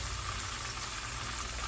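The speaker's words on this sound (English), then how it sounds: "we got the fishes frying here" Fish sizzling in a pan over a fire, a steady broadband hiss and crackle of hot oil running continuously and fairly close, with no one speaking.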